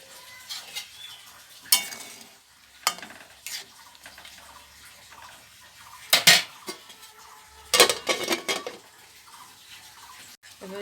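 Utensil scrapes and clinks against a pot while prawn malai curry is stirred gently over low heat in a village kitchen, several sharp metallic knocks spaced across a quiet background with no talk.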